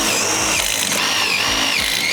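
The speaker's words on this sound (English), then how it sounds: "we'll go ahead and put 2 screws in it just like we did on the other end." A power drill drives screws into a swimming pool riser panel, giving a steady close whirring whine for a couple of seconds with a slight pitch wobble as the screw bites.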